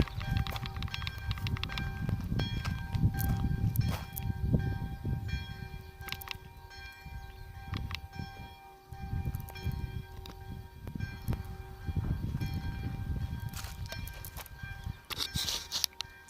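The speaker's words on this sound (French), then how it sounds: "Tu entends les cloches?" Church bells ring repeatedly in the distance at Pont-Calec, their tolling clear over a steady outdoor background with occasional muffled noise.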